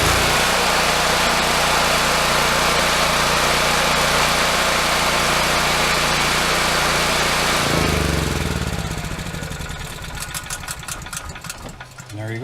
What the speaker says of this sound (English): This is a true Honda generator.